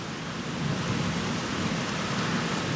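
Summer rain falls steadily with a low rumble of rolling thunder beneath it, heard from a weather deck as a continuous, moderate wash with no voices.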